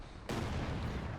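An MG-42 light machine gun fires during an intense World War II video game battle, a sudden loud, dense rumble of fire that starts abruptly and holds steady to the end, with distant battle noise underneath.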